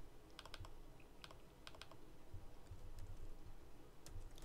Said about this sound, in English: I'll just type it out.